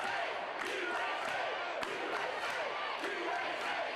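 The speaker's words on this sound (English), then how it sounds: "And the crowd, listen to them." A wrestling crowd cheers and roars continuously at an event, a loud dense wall of voices punctuated by occasional thuds from the ring.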